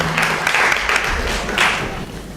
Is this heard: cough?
no